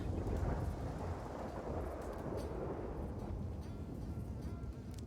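Thunderstorm with rain in the video game Red Dead Redemption 2 (RedM): low rolling thunder rumbles over a continuous patter of rainfall, fairly quiet and steady throughout.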